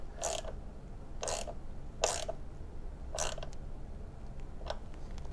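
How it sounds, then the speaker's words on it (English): A ratchet tightening an 11 millimeter battery terminal nut on an Acura NSX clicks in five short, evenly spaced bursts of ratcheting, close and fairly quiet over a low background hum. "I can go ahead and"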